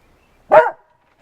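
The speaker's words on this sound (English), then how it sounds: "He's our beagle, and he is ridiculously loud sometimes." A beagle lets out one loud, sharp bark close by, with silence before and after.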